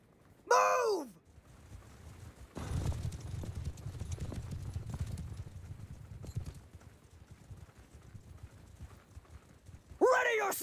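Horses in a Bannerlord Khuzait battle: a steady low rumble of massed hoofbeats fills the middle of the clip, framed by loud whinnies at the start and end.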